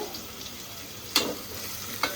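Mustard seeds, fenugreek, curry leaves and onion crackling and sizzling in hot tempering oil, a steady hiss with two sharper spits, fairly quiet and close.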